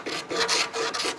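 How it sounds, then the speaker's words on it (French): Old lacquer is scraped off carved wood in Hué, Vietnam, in loud, close, rasping strokes, about five rhythmic scrapes each lasting a fraction of a second with short gaps between. "Alors il faut tout gratter ici."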